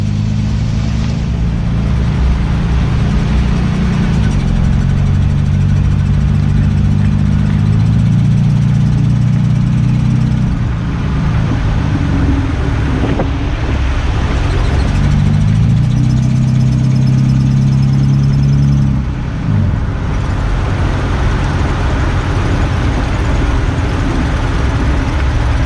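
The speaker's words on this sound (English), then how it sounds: "If you hear that noise, it's pretty much a dead giveaway. You have a U-joint going bad somewhere on the vehicle." A vehicle with a failing U-joint runs loud and close for the whole stretch, a steady low engine drone that swells and eases a few times as it revs, with no voices.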